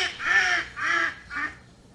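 A duck gives three nasal quacks in quick succession, close and clear, each a little shorter than the last, with nothing else around them.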